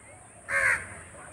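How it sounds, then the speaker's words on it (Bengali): Myna birds calling near a gate where food is scattered for them, a single harsh caw-like call rising briefly mid-clip over a quiet background. "কত শালিক এসেছে দেখুন"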